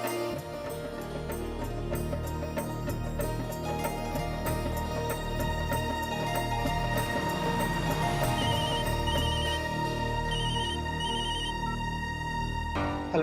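A telephone rings steadily through the scene of a Hindi TV drama, its repeated electronic bell tones continuous and prominent over a busy background for the whole stretch, with no talking.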